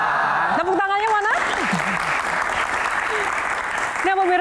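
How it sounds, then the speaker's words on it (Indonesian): The studio audience of a Metro TV Q&A talk show claps steadily and fairly loudly, while a host's voice is heard briefly at the start and again near the end. "Tepuk tangannya mana?"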